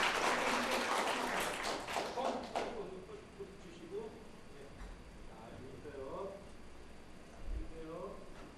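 Audience applause at a mock city council competition, a burst of many hands clapping that fades out after a few seconds, followed by quiet room murmur and a few scattered taps.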